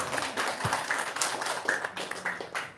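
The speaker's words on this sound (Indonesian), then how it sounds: "Nah, tepuk tangan dulu dong." A small group claps briefly in a room, scattered hand claps mixed with faint background murmur and shuffling.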